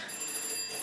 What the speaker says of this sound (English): that's my phone. I wonder who's ringing me at this time of day.